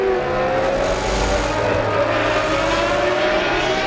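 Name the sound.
Formula 1 race car accelerating, 1995 San Marino Grand Prix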